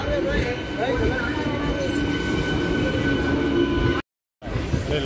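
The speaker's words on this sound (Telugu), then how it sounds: "ఎంఎంటీఎస్ ట్రైన్ అయితే వెళ్తుంది ఇక్కడ నుండి" An MMTS commuter train rolls past a station with a steady, rumbling rail roar, faint wheel squeals and clatter, and the sound is broken by a brief dropout near the end; voices are faintly present.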